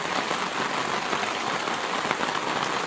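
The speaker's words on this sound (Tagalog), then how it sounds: "Sobrang lakas ng ulan kaya hindi kami makaalis." Heavy rain pours steadily on a surface outdoors, a dense, loud, even hiss of countless drops with no pauses and no voices.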